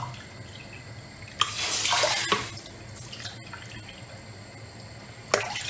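Two cups of water pour into a heavy-bottomed pot in a short gushing stream lasting about a second, followed by quiet, then another brief splash at the end.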